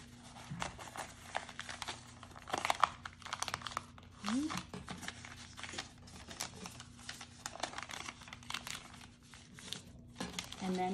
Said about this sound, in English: You're gonna fold this to the center and this to the center.